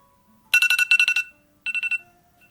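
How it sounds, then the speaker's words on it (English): A digital timer alarm beeps in rapid bursts, two groups of quick high-pitched electronic pulses followed by a shorter third burst, clear and close in an otherwise quiet room. "So our timer went off"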